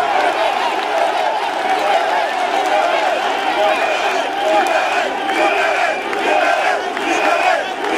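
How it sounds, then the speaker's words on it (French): A large crowd at a Cameroonian political rally in Paris applauds and cheers steadily, a dense continuous roar of clapping and voices that stays loud throughout with shouts rising over it. "Applaudissez encore plus fort pour lui."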